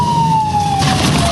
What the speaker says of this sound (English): Turn your siren off.